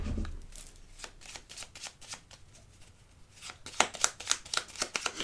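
Tarot cards being shuffled and drawn by hand, a run of crisp, quiet riffling and flicking strokes that grows louder and snappier toward the end, with no talking.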